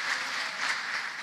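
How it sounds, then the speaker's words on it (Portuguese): A church congregation claps together for a couple marking eighteen years of marriage, a dense, continuous wash of applause filling the room with gentle surges, no voices rising above it. "Vamos aplaudir o Senhor Jesus por essa aliança"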